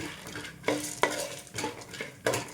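Roasted gram dal is stirred in a pan, a spoon scraping and clinking against the metal in a few distinct strokes over a light, soft sizzle.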